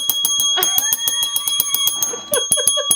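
A small toy bell dings rapidly and repeatedly, a steady bright ringing with a sharp metallic tone, loud and close with no talking.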